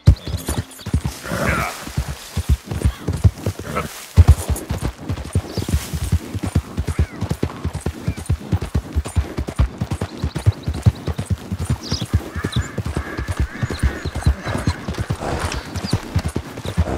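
Horse hooves clip-clop steadily through Red Dead Redemption 2, a brisk, even rhythm that continues the whole time, with a brief whinny-like sound and faint mechanical creaks in the background.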